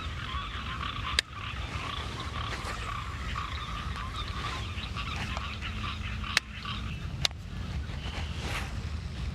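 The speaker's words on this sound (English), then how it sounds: "Frogs are lit up in that first impoundment." A chorus of frogs calls steadily at night by a water impoundment in a quiet outdoor setting, with a few sharp clicks breaking through the low, constant background.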